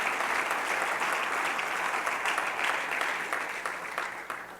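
A congregation applauding loudly during a church service at a Christian church, a thick, sustained wash of clapping that tapers off toward the end.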